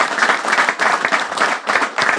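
A crowd at a rally to save 500 Kings Park jobs applauds, a dense, loud, steady clapping from many hands filling the whole stretch without pause.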